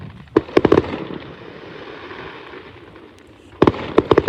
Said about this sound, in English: Yeah, fireworks are basically exploding rockets, except miniature.